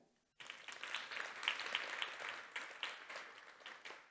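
A conference audience bursts into applause after a brief silence, dense clapping continuing steadily at a moderate distance.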